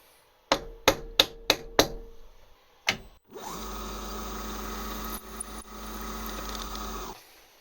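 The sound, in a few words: tapping a 1/2 inch reamer in with a rawhide mallet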